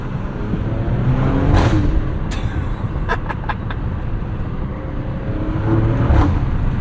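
A 2024 Maserati Grecale Trofeo with a twin-turbo V6 accelerates away from a light in rush-hour traffic, a loud, steady engine roar heard from inside the cabin with no talking.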